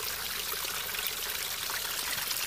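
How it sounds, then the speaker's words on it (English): Spring water pouring out of a rocky mountainside near a spring-head collection point, a steady close-up rush and trickle over rocks that holds evenly with no voices. "I really would like this collection system to be a lot closer to where the water's coming out of the mountain"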